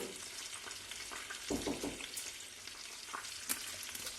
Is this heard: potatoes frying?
yes